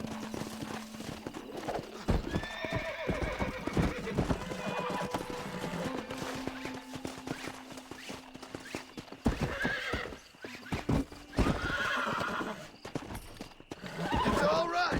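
A wild horse whinnies and gallops in the Red Dead Redemption video game, with continuous clip-clopping hooves and loud neighs while people talk over it.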